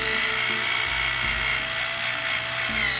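Tamiya hobby drill bores a hole in a model kit part, a continuous high whirring motor whine with small shifts in pitch as the bit bites, close and steady.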